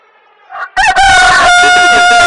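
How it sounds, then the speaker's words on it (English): A mature male rooster crows loudly and close by, one long sustained cock-a-doodle-doo that starts after a soft lead-in and holds steady to the end. "A mature male chicken is called a rooster"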